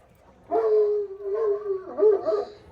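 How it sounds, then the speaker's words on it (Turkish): A dog gives a drawn-out howling whine, three sustained tonal cries in a row at close range, heard on its own around a farmyard where new chickens are being brought home. "Köpek sesi falan filan."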